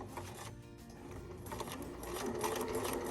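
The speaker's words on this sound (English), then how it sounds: "And then we sew all the way down the length of the bag in one straight line." Sewing machine running a continuous straight seam along the edge of a drawstring bag, a steady fast mechanical whir that builds slightly louder toward the end, heard alone without talk.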